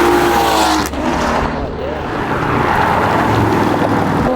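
A Kia Stinger turbo engine and exhaust with aftermarket intakes at a car meet, a loud close roar that surges and then holds steady, with voices mixed in.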